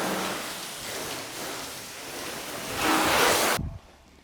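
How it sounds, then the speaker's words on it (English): Hose water spraying over a car during a hand wash, a steady broad hiss that swells louder near the end and then cuts off abruptly. "while you have your hose, you want to always rinse your vehicle."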